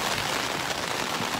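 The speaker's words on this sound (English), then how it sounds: "The rain is coming in fast and furious." Heavy rain pours down as a storm moves in over the New Hampshire mountains in June, a dense, loud, continuous hiss of drops striking surfaces close by, with no voices.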